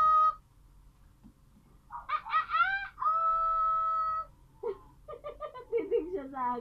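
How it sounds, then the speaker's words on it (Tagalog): Close, loud clucks and drawn-out crowing calls from a rooster, in bursts over a quiet low hum, with brief gaps between them. "Ang manok na pula ay nanunok pa."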